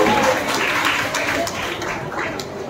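A crowd at a college farewell event applauds and cheers, a steady wash of loud clapping with scattered sharper claps that fades slightly toward the end.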